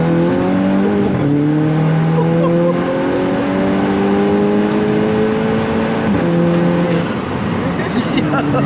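Modified Stage 2 VW Golf GTI at full throttle, a loud, close engine note climbing through the gears with rising tones and brief dips at each shift, heard from inside the car.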